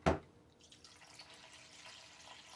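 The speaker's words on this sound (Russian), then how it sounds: "Add some water." Water poured into a salsa-based sauce for Ukrainian cabbage rolls, heard as a sharp initial splash followed by a faint, steady trickle.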